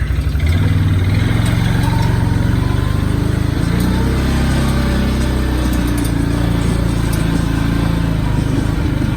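A vehicle engine runs steadily after being put into gear, a loud continuous mechanical drone close by, with no one talking over it.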